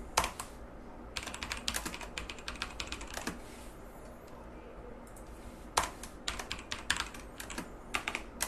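Quick bursts of typing on a computer keyboard, close and crisp, with short pauses between flurries of key clicks.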